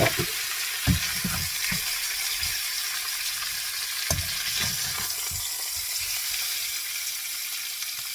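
Pieces of pork fat fry into crackling in hot oil, giving a close, steady sizzle broken by scattered sharp pops and spits.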